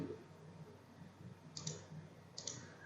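Two crisp computer mouse clicks while working in Maya 2019 with Arnold materials, spaced about a second apart over a faint room hum.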